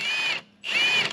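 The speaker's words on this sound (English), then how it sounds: "Let me wire brush that, though." A powered wire brush works on a jam nut of a 1939 Caterpillar D4 crawler tractor during transmission top cover removal. Two loud, harsh whirring bursts are heard, each about half a second long, separated by a short pause.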